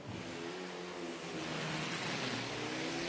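A race car pulls away from the start line of a qualifying run, a loud continuous engine roar rising steadily and filling the whole stretch.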